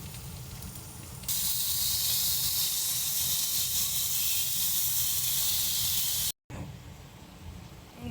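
Ginger garlic paste hitting a hot pan and breaking into a loud, bright, continuous sizzle, close up, briefly cut off then resuming softer.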